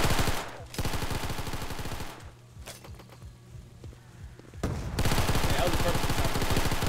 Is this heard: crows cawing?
no